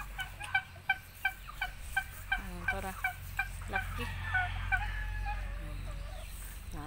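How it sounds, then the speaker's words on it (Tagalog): A turkey on a native chicken farm lets out a run of quick, rhythmic gobbles, fairly close and clear, then trails into softer calls over a low rumble of farm background. A few words are spoken briefly. "Ani ang pabo."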